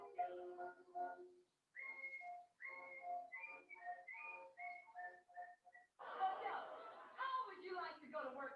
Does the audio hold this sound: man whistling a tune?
yes